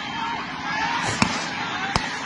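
Gunshots ring out as police open fire on villagers during an eviction clash in Assam, two sharp distant cracks over a steady crowd and street din.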